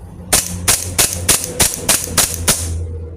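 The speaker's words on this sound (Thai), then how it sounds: "มาทดสอบยิงให้หมดแม็กนะครับ" A WE M92 BB pistol is test-fired until the magazine runs dry: eight sharp, evenly spaced pops about a third of a second apart, close and loud, with a faint tail after the last shot.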